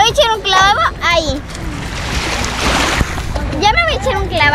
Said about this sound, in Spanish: Me voy a echar un clavado ahí.